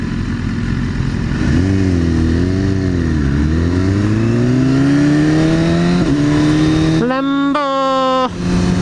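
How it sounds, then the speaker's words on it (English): A loud car engine rises in pitch as it passes close by, then shifts gears with a sharp climb near the end, over steady road and wind rumble. "Lambo!"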